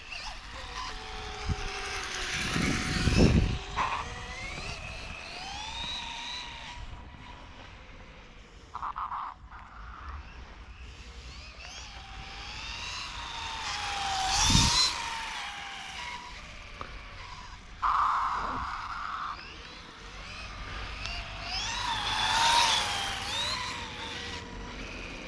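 A Losi Promoto RC motorcycle's electric motor whines and revs in repeated high-pitched bursts, rising and falling several times at close range, with no talking.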